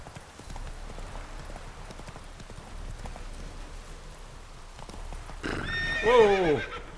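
Roach the horse in The Witcher 3 gallops with steady hoof clip-clop throughout, then near the end lets out a loud, close whinny that rises over the hooves.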